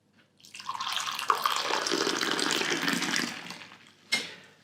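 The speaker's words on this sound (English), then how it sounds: "Everyone knows that coffee poured from higher up tastes better." Filter coffee made with a V60 is poured from high up into a cup, giving a steady liquid splashing and trickling for several seconds that ends in a short final splash.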